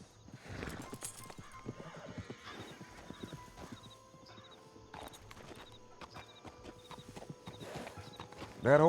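In a video game town, a saddled horse's hooves clip-clop in an uneven walking rhythm at moderate distance, with a loud, close whinny bursting out at the very end.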